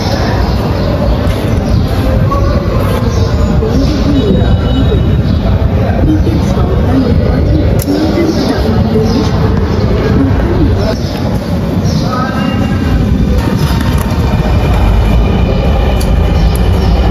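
A metro train runs with a steady, loud rumble and rail clatter throughout, under a constant babble of voices in the carriage or station.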